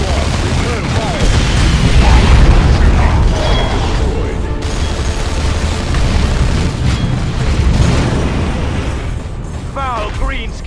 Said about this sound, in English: Put a grenade through the window.